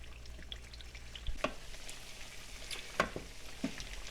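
Sliced potatoes fry in a pan of oil for a Spanish tortilla, giving a soft, steady sizzle broken by a few sharp pops and utensil scrapes, heard close with no talking.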